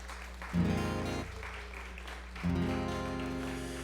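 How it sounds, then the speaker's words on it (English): Applause from a live-music audience at Red Barn Live for a band, a steady wash of clapping with a low band hum beneath and a louder swell partway through. "Y'all give them another round of applause."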